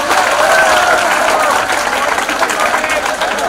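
A school audience at a panel discussion breaks into applause, dense clapping mixed with cheering and crowd murmur, loud and sustained throughout with a slight dip near the end.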